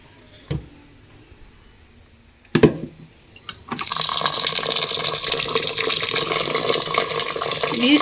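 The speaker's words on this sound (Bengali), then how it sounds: "আতপ চালটা ভিজিয়ে নিলাম কারণ হচ্ছে জলটাকে ঝরিয়ে গুঁড়ো করব" Tap water running steadily into a container of raw rice for soaking, starting after a few faint knocks and continuing loud and close to the end.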